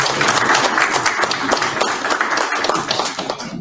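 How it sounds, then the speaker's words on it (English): A room full of people applauding Secretary of State candidates at a political forum, loud dense clapping sustained throughout. "Join me in giving them a round of applause"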